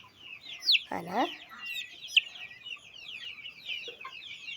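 A chicken chick, apparently unwell, clucks in a garden, with several short rising and falling calls near the start and lighter chirps after. Faint talk and bird noise sit in the background.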